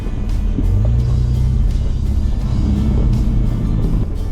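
An off-road vehicle crawls slowly along a very rocky desert trail with washouts in the Kofa Wilderness, giving a steady, loud low engine drone with rumbling and occasional knocks throughout.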